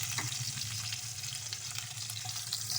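Onion, ginger-garlic, curry leaves and spices sautéing in a pan, giving a steady, moderately loud sizzle with faint stirring, heard without speech.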